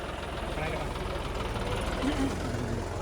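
A Deere tractor engine idles with a steady low rumble that runs throughout, while people talk nearby.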